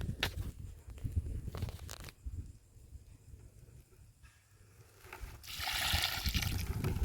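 Water poured onto a potted blueberry plant, trickling and splashing into the soil in uneven bursts, with a louder rushing pour toward the end.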